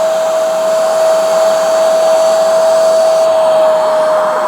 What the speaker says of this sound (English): Okay, so on the Hoover Spotless, it's got hose cleaning. Turn it on, take the head off.